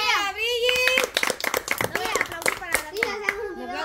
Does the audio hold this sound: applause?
yes